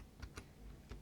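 Computer keyboard typing, with a few separate key clicks spaced out over about a second, faint and alone with no talk.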